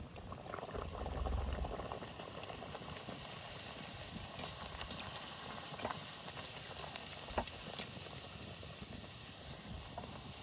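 Luchi frying and puffing in very hot oil: a dense, steady bubbling and crackling throughout, with occasional sharper pops.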